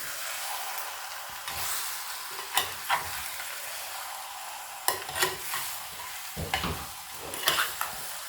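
Chicken pieces are stirred with ground masala in a small pot, with scraping stirs and soft sizzling at irregular intervals, quiet and close.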